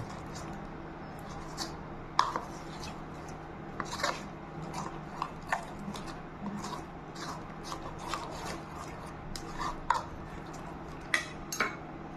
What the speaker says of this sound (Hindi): पानी ऐड करने के बाद इसे अच्छी तरीके से मिला लेंगे